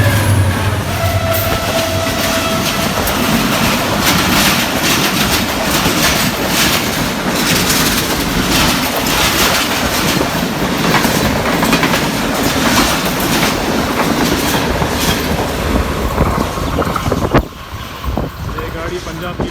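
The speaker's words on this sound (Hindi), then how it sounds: "ये देखो अभी एक रेल आ रहा है यहाँ से गग्गर फाटक से गुजर रहा है" A passenger train rushes past the Gaggar railway crossing, a loud continuous roar with rapid clickety-clack of wheels on rails that carries on throughout and eases off near the end.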